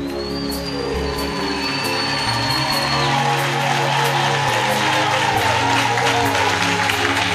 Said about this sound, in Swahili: pigia Yesu makofi kwa hasira